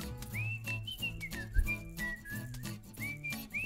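A whistle is blown in a dramatised reading of the play The Proposal, giving several bright, gliding whistled notes in short repeated bursts over steady background music.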